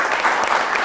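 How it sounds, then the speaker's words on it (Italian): Audience applause in an Italian quiz show studio greets a guest philologist, a short burst of dense, loud, continuous clapping with no voices over it. "A lui l'applauso."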